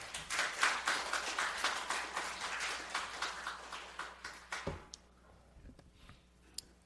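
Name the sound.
audience clapping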